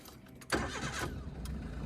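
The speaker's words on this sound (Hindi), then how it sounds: "हल्का सा सेल्फ लेके छोड़ दिया था मैंने।" A Maruti Alto 800 car is started with a brief tap of the self-starter: a sharp crank kicks in abruptly, then the small engine catches and settles into a steady, close idle rumble, with no talking.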